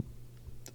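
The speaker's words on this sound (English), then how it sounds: "if you hear me clicking, that was opening my phone in the background." Faint, quick clicks from a phone being opened, with a couple of brief ticks near the end over a low, steady background hum.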